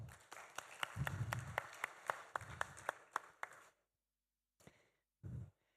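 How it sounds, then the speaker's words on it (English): A short burst of audience applause at the APAN60 conference, scattered sharp claps building then fading, followed by near silence and a few isolated sounds. "So maybe a big applause to them as well."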